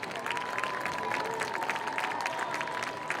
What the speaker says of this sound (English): Let's give these seniors and their parents a final round of applause.